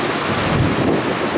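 Strong, steady wind roars against the microphone beside a waterfall in Jasper National Park, with constant rushing spray and mist filling the sound, no talk.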